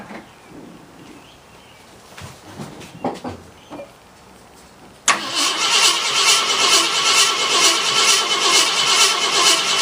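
A 1966 Ford Thunderbird engine, sprayed with starter fluid, sits quiet with faint clicks and rustles before it suddenly catches and fires, then runs loud and steady at a rough idle for the rest of the clip.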